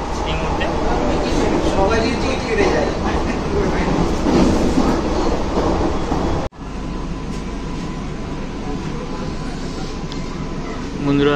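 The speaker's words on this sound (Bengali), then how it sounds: "সিঙ্গুরালি আমাদের ট্রেন সিঙ্গুরালি ক্রস করছে এই মুহূর্তে" An EMU fast AC local train on the Ranaghat–Sealdah line runs steadily past Singur, with a loud continuous rumble and rattle from inside the coach and a brief dropout midway before the running noise resumes.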